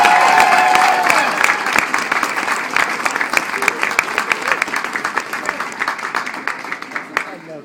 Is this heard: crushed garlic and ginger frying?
no